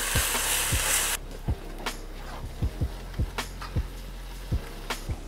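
Garlic and ginger paste sizzles loudly in a hot pan for shrimp fried rice, a bright hiss that drops to a quieter fry while repeated spoon taps and stirring knocks land at a steady rhythm.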